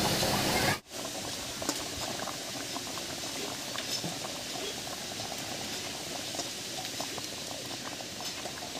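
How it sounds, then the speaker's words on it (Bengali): A pot of potato and egg bora curry boils steadily, a continuous bubbling and liquid patter after a brief dip near the start, close and even throughout with no talking. "বেশ কিছুক্ষণ খুব ভালো করে রান্না করে নিয়েছি, বলক উঠে গেছে।"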